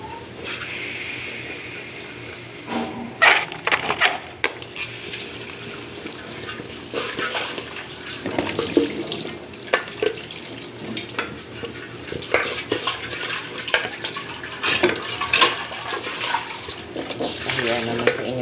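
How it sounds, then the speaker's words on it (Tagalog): Dishes get washed in a full kitchen sink under a running tap, with water splashing and clattering steadily at close range amid scattered clinks, while someone talks quietly over it. "Hugasan lang natin itong ating punong-puno kasi ng hugasin itong ating lababo."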